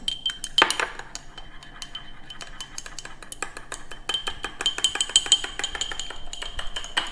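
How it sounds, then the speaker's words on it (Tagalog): A metal utensil stirring a salmon dish dressed with olive oil in a bowl, quick repeated clinks and scrapes against the dish in an uneven rhythm, close and clear. "Tapos, haluin lang ganito."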